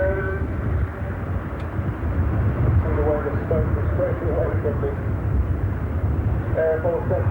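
An aircraft at the Farnborough International airshow drones with a steady low engine rumble at a distance, while a commentator talks over it throughout.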